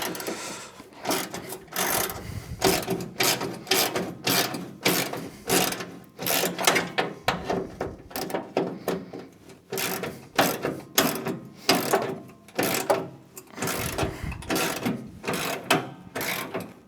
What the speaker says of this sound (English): Let's get my little ratchet out here.